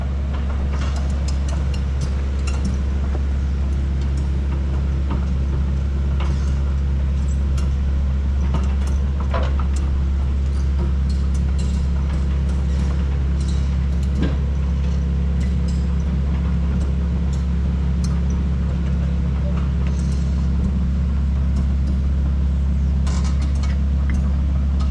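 An abandoned telehandler's engine runs as the machine is driven, a loud, close, continuous low rumble with faint rattles over it.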